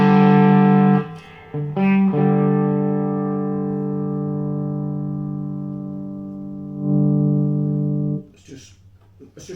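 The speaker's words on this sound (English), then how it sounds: "We got a bit too much reverb." An electric guitar through a Mesa Boogie Lone Star Special amp plays sustained chords soaked in heavy reverb, ringing out and decaying slowly with a few brief restrikes. A voice speaks briefly at the end.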